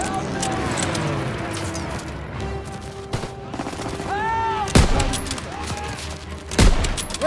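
Call of Duty WW2 battle with heavy gunfire: loud, continuous volleys of rifle and machine-gun shots with sharp nearby bangs, under shouted voices and vehicle rumble.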